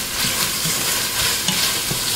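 Seasoned vegetables with salt and black pepper frying in a pan for a beef sausage penne dish, a steady close sizzle with occasional stirring scrapes throughout and no talking.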